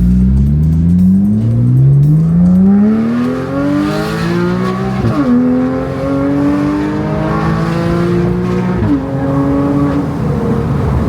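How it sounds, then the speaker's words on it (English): A Porsche 911 fitted with a cheap aftermarket Alibaba exhaust revs up loudly and close by. The engine note climbs in long sweeps and drops sharply at two gear changes, then pulls again, with no talk over it. "It sounds good, Alibaba exhaust."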